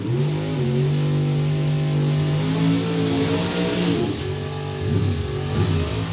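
A Camaro drag car's engine at a drag strip during the World Super Pro Challenge, a loud sustained revving drone with shifting tones, close and continuous.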